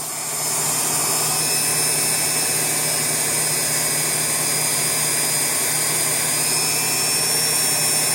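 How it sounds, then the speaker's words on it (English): A Dremel rotary tool fitted with a dome wire brush scrubs leftover scraps of coin-ring metal, giving a loud, steady whirring whine that runs unbroken from start to finish with no talking. "I'm going to break out the trusty Dremel, the dome wire brush, take it on"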